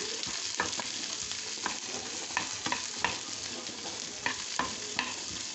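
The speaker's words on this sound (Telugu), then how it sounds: "ఇవన్నీ కలిపి కొంచెం లైట్గా ఇలా వేయించేసుకోవాలి" Roasted gram dal and other ingredients frying in a pan, a continuous sizzle with repeated scraping stir strokes of a spoon at an uneven rhythm, close and alone with no talk.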